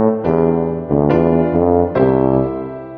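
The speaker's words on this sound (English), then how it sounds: "A tuba sounds like this." Tuba in a Mickey Mouse Clubhouse video game, sounding three deep, round brass notes in sequence, each a clear sustained tone with a fresh attack, loud and alone.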